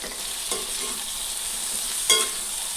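Chicken pieces frying with onions in a pan, a steady hiss of sizzling oil with two scraping stirs of a spoon, the second louder and brighter, and no talking.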